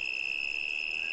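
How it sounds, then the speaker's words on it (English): Steady, loud chirping of crickets fills a night scene in the video game Castle Story, a continuous high shrill drone with no pauses and no other sounds. "it's really grating now since it's just crickets"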